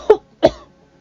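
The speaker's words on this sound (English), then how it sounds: "He coughed." Two sharp, close coughs from a man, spaced about a third of a second apart, loud and isolated against near silence.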